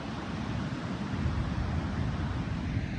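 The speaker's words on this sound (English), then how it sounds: "What you're hearing is the roar from the ocean waves coming in." Steady broadband roar of ocean waves rolling in on a shore as the tide starts to come in, a continuous even wash with no distinct breaks or voices.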